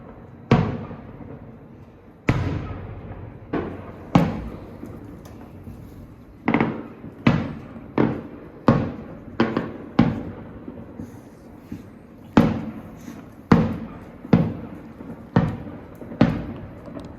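Fireworks being let off in Portugal, a series of sharp booming bangs at irregular intervals, about a dozen and a half reports, some nearer and louder, each fading quickly into quiet.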